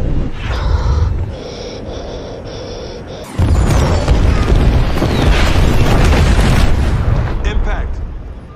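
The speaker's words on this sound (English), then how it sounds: "Impact. Enemy runway is destroyed." Missiles strike an enemy runway in a Microsoft Flight Simulator game: a steady jet drone gives way to a sudden loud, deep blast that rolls on as a heavy rumble for several seconds.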